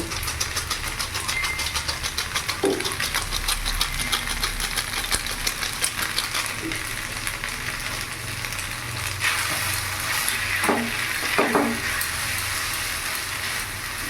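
Chinese singara filling stirred in a pan with Maggi masala, a steady frying sizzle with soft scraping of the spoon and a few sharper clinks throughout.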